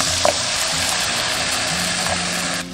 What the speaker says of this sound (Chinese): 加入葱姜炒香， 加入虾头， 把虾头炒香过后